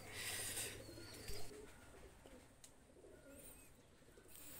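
Pakistani pigeons, including a dabla running pigeon, coo softly in low repeated murmurs, with brighter chirps and rustling up high, all fairly faint and without any talk.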